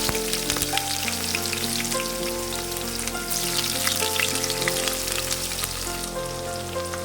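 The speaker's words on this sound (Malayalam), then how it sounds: "ഈ സവാള നമുക്ക് അല്പം ഉപ്പ് ചേർത്ത് നല്ല ഗോൾഡൻ കളർ ആവുന്ന വരെ നന്നായിട്ടൊന്ന് വഴറ്റിയെടുക്കാം" Onions with a little salt sautéing in oil for a mutton curry, a steady dense crackling sizzle running throughout with soft stirring scrapes, close and fairly loud, with background music tones and no talking.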